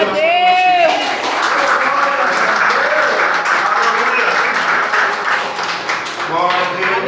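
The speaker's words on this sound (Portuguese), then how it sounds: "Aplauda esse Glória a Deus." A church congregation claps along after a call to applaud during a prophetic message, sustained dense clapping with a voice rising over it at the start and crowd noise throughout.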